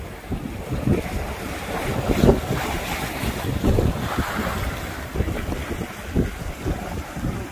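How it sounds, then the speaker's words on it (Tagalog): Ocean waves surge and crash steadily at Beachey Head, with strong wind buffeting the microphone and no voices. "Lalakas ang laki ng alon."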